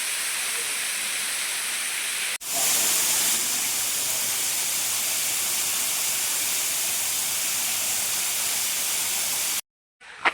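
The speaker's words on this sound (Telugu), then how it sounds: "full water falls" A full waterfall pours near the Devaracharla Muni Shiva temple in Nalgonda district, a loud, continuous hissing roar that holds steady for several seconds, briefly cut once early and dropping out near the end.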